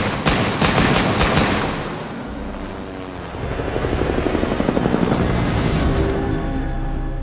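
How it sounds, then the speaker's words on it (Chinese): Aircraft engine spins up and roars in an action movie escape scene. A loud, steady, rotor-like drone runs throughout, mixed with bursts of gunfire and no talking. "花姐顺利启动了飞机离开了这里"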